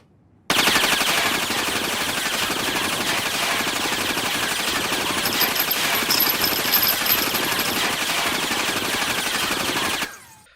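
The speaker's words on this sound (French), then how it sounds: "Le bruit de cette arme." Anime gunfire effect from Girls' Frontline: a sustained burst of rapid automatic fire lasting about ten seconds, loud and continuous, cutting off abruptly.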